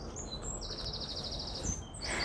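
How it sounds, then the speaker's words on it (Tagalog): Birds sing in a sunny garden with fruit-laden trees, with thin high chirps and trills repeating over steady outdoor background noise. "Naririnig niya yung ibon. Kumakanta sila dahil maaraw."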